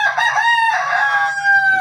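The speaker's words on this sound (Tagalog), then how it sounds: "Kapalitan ko si Gray, yung malaking manok." A large rooster crows once, close and loud, in a long drawn-out call that fills the whole moment.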